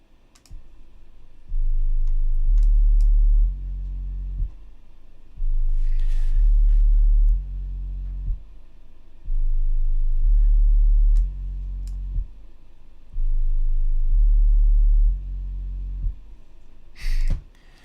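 A low-frequency sine wave tone played back through audio software, coming in four steady loud bursts of about two seconds each with short gaps between, joined by faint mouse and keyboard clicks.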